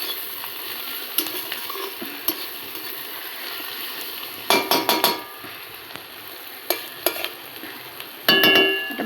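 Spices with onion, tomato and tomato paste frying in a pan, a soft steady sizzle broken by clusters of scraping stirring strokes and utensil clinks against the pan, close and moderately loud.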